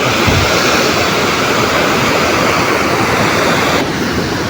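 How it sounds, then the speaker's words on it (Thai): Strong water rushing over an overflow weir, a loud continuous roaring wash of turbulent water filling the scene without pause, no voices. "โอ้ น้ำกำลังแรงมาก"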